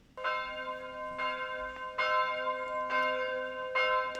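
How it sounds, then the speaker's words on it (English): Church bells of St. Jacob's Church in Herxheim am Berg ring the midday call, striking about four clear, resonant tones at a steady, even pace, alone with no voices. "The bells of St. Jacob's Church in a town called Herxheim am Berg, sounding the midday call"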